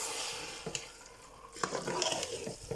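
Brinjals are stirred into masala in a pan, with faint sizzling and scraping spoon strokes, a few sharper clinks against the pan, growing busier toward the end.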